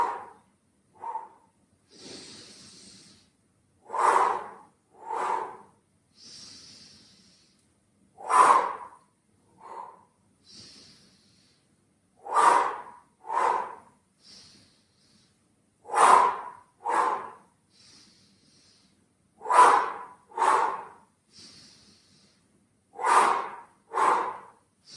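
Rhythmic, forceful breaths for an emotional release exercise come in paired bursts, two sharp exhales and then two sharp inhales. The pattern repeats steadily and close up, with brief pauses between the pairs.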